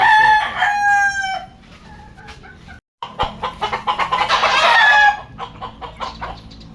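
A white Kelso and sweater gamefowl rooster crows loudly and close by. It gives two drawn-out calls with a brief pause between them and some clucking around them.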